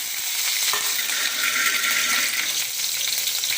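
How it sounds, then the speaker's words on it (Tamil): Three green chillies fry in oil for coriander mint thuvayal, giving a continuous close sizzle with faint crackles and light stirring, no voices present. "இப்போ கொஞ்சம் எண்ணெய் ஊற்றிருக்கேன் இதில் ஒரு மூணு பச்சை மிளகா"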